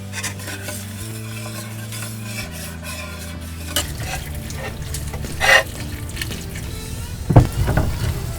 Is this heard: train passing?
no